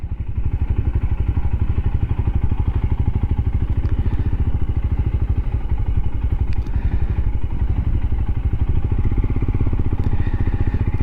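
A motorcycle rides along a road in Brittany, its engine giving a steady, loud, close throbbing drone with a regular thumping pulse throughout and no speech.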